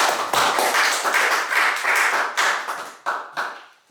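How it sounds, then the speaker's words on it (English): An audience at a center meeting claps for a member, a quick loud burst of many hands that thins out near the end into a few separate claps. "let's clap for Senior Bob"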